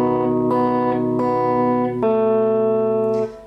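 A short guitar phrase from Play Misty For Me, a few clear plucked notes ringing into one another, close and clean with no talking.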